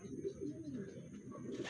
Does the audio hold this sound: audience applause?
no